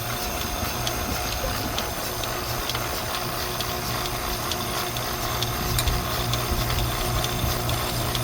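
A milking machine pump runs on a farm with a steady mechanical hum and a fast rhythmic ticking pulse, fairly loud and continuous, with light clatter over it.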